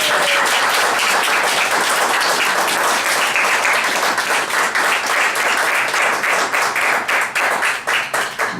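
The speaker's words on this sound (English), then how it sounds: "get a big applause" A seated audience at a state senator's political gathering breaks into sustained applause, dense clapping from many hands filling the room for several seconds and thinning into more distinct claps toward the end.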